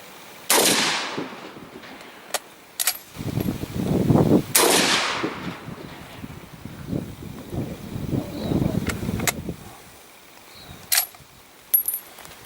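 Sharp, loud gunshots from an antique magazine-fed Lee Enfield .303 rifle fired outdoors while hunting in New Zealand, two main cracks with echoing tails and a few fainter sharp reports amid wind and rustling.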